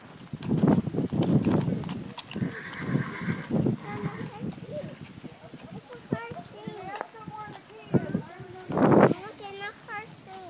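Horse hooves clip-clopping during a backyard race, with neighing heard among loud children's and adults' voices talking and shouting over the whole stretch.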